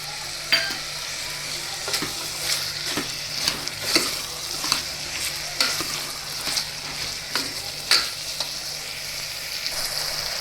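Carrots and peas cooking in oil for a Gujarati carrot shaak, a steady sizzle with repeated scraping stirs and light clicks of a spoon on the pan, close by with no voices.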